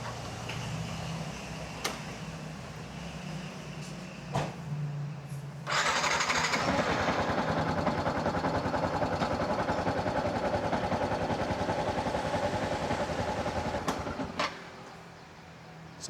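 A Yamaha Sniper 150 motorcycle engine catches after a battery replacement, jumping from quiet idle noise to a loud, steady running drone that holds for about eight seconds before dropping off.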